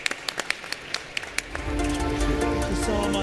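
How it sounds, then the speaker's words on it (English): Applause from a conference audience at a tech event's main stage: a few scattered claps at first, then a broad, steady wash of clapping swelling from about halfway and holding to the end. "A very warm hand of applause for our fantastic speakers."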